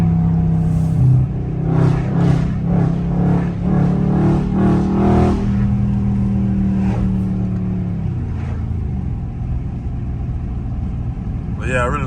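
Catless Dodge Scat Pack engine and exhaust during a driving run, a loud, steady rumble with revving pulses and shifting pitch. Someone talks over it throughout.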